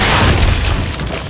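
Loud, sustained low boom of a grenade blast in Resident Evil 4, a dense rumbling roar that fills the whole moment and slowly tapers, with no talking over it.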